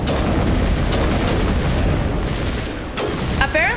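Sniper rifle fire from Garrus during Mass Effect combat, heard as dense, loud gunfire and booming blasts filling the whole stretch, with a sharp burst near the end.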